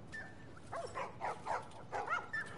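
Dogs barking and yipping at a dog fight in The Last of Us, sounding as a series of short, moderately loud barks spaced across the moment, with no talk over them.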